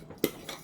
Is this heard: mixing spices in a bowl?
yes